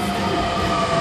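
Sydney commuter train heard as a steady, close rumble with a faint high whine, continuous and unbroken, with no voices.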